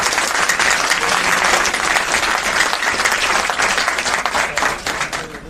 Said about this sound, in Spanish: un fuerte aplauso y gracias por estar con nosotros